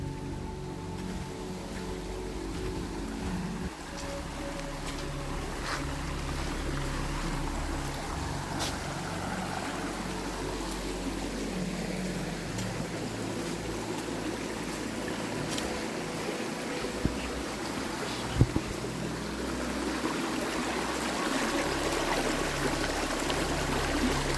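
Forest stream in a wooded area flowing steadily, a continuous broadband wash of running water with a faint low hum beneath, no voices.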